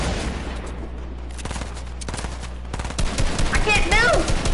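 Rocket launcher fire in a shooter video game: a rough sequence of sharp blasts and bursts, with a brighter sweeping effect near the end, loud throughout.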